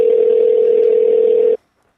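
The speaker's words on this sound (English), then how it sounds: "So I hear Bubby's ringing now." Steady single-tone telephone signal on a call, loud and close, holding for about a second and a half before cutting off abruptly into silence.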